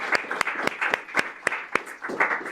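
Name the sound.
applause for Constanza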